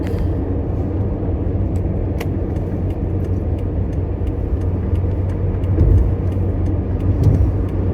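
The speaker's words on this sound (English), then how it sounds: "that traffic is backed all the way up" Backed-up road traffic with cars passing, a continuous dense rumble of engines and tyres with a couple of louder swells as vehicles go by nearby, no talking.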